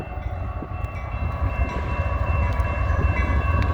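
SD42 and Dash 8 locomotives roll past with a rail train, a loud continuous rumble of wheels and engines close by, steady and heavy with no break in the passing.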